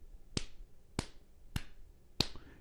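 Open hands clap against the chest in a steady, natural rhythm: four sharp, close slaps about half a second apart, with no talking.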